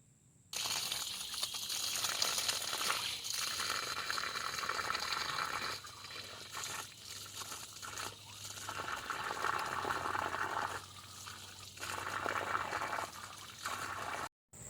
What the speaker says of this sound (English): So let me go wash my hands